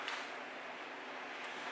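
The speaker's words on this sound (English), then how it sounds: "That's the sound of rainfall, y'all." Steady rainfall outdoors, a soft, continuous hiss with no distinct drops, heard alone at a moderate, even level.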